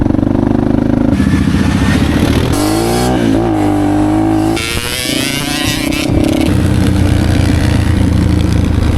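A motorcycle rides along a farm track by a fence line on a rural property, its engine loud and steady throughout, rising and falling in pitch as it accelerates, close to the rider.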